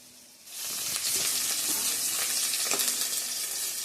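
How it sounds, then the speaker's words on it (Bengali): Leftover fried fish from the day before is reheated in a pan, starting with a sudden loud sizzle that settles into a steady, close frying hiss with light stirring scrapes. "তো মাছটা একটু গরম করে নিচ্ছি কালকের মাছ"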